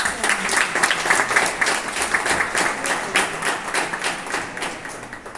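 Sustained audience applause at a colloquium on death at a university venue in Xalapa, Mexico, many hands clapping in a dense, steady wash at moderate level that continues throughout without voices.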